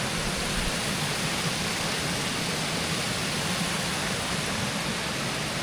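The Erawan Waterfalls rush in a loud, dense, unbroken roar of falling water, heard up close and alone.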